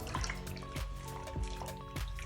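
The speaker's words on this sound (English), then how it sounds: "So I'm just going to run the water through it a little bit more." Tap water runs and splashes through a wig being rinsed in a sink, a faint steady trickle with soft irregular drips and gurgles throughout.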